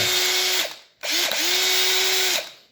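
A Makita DHP458 two-speed brushed cordless drill whirs close up in two runs: a short burst, a brief stop, then a longer steady spin that winds down.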